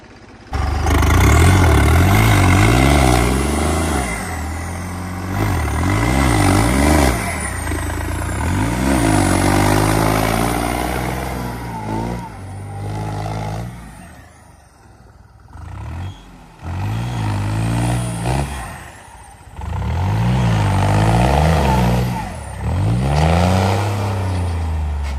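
A tractor fitted with 17/9-28 tyres is stuck in a muddy field. Its engine revs hard in repeated rising and falling surges over about 25 seconds, loud and close, with a brief drop to a lower idle midway.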